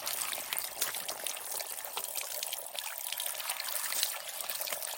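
Water pours and trickles steadily as a dosa pan (kavali) is washed without soap, a soft continuous splashing at moderate distance.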